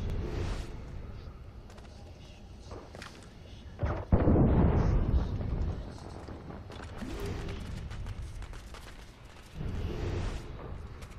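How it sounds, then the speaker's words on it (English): Explosions in the Assassin's Creed Rogue video game as barrels are blown up with firecrackers, a sudden heavy blast around the middle with rumbling decay, smaller bursts and game sounds around it, and someone talking at times. "we still have to blow up 3 barrels. With the firecrackers"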